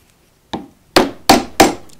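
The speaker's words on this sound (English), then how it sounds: "there's a handle coming off, and there's a wedge of wood pushing that off." A hardwood wedge is tapped with a tool to drive a handle off a woodcarving chisel: one lighter knock, then three sharp, solid wooden thwacks in quick succession, close and loud with no speech.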